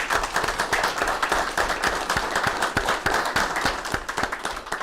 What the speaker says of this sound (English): So I'm gonna give you all a round of applause.